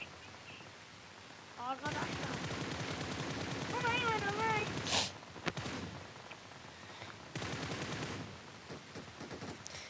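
Gunfire in the mobile game PUBG Mobile, sustained bursts of rapid shots at moderate distance, stopping and restarting, with people talking over the shooting.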